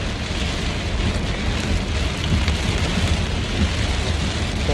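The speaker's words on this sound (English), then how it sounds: "I know y'all probably hear the rain." Heavy rain pouring down outdoors, a loud, dense and continuous roar of falling water that fills the whole stretch without pause.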